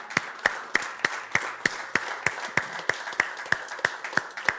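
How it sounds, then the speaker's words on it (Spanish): A church congregation claps in steady unison, about three sharp claps per second, with a faint wash of scattered clapping and room noise between the beats. "Un aplauso más al Señor."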